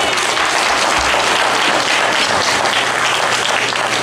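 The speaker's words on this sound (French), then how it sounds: "Est-ce qu'on peut applaudir pour la marraine," Loud, dense applause from a gala audience in Montreal, cheering the event's godmother: a continuous roar of many hands clapping, steady and close, with no pause.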